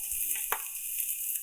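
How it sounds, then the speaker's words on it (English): Steak frying in hot oil gives a steady, close sizzle with a brief sharper pop about a third of the way through, and no talking over it. "Oh, listen to that sweet baby sizzle."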